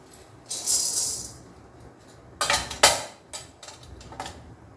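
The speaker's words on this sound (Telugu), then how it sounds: "కొంచెం శనగపప్పు వేస్తున్నాను పచ్చి శనగపప్పు ఒక రెండు టీ స్పూన్లంతా" Raw chana dal poured into a pan on the stove for a moringa leaf and tamarind chutney: a sizzling rush, followed by several sharp clinks and scrapes of a spoon against the pan, heard up close with no voice.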